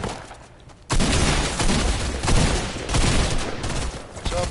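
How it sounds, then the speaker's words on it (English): Gunfire in a PS4 video game: after a quieter second, a loud, dense burst of repeated shots runs continuously to the end without pause. "Oh, the shots from behind."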